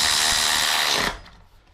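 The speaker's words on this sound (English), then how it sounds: "Power wrench." A power wrench tightens the loose stem on a Razor C35 SLA electric scooter, a loud, steady whirring buzz lasting about a second before cutting off abruptly, close up and with no talking.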